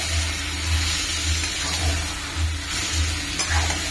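Meat coated in Kashmiri chili paste frying in a hot pan, giving a steady, close sizzle with a low, pulsing rumble beneath it the whole time.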